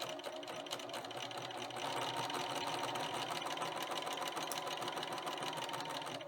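A sewing machine stitches doll tights made from a sock, running in a steady, fast mechanical whir with rapid needle ticks, close and continuous throughout.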